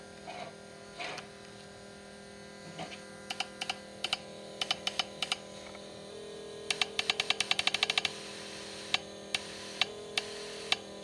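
Fuel injector on an L28ET fuel rail clicking as it is pulsed, a run of sharp ticks in short bursts, some rapid and clustered, over a steady low electrical hum.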